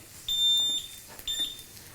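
A Star Pro-Max sandwich grill timer sounds two high electronic beeps, the first longer and the second shorter, clear and near against a quiet room.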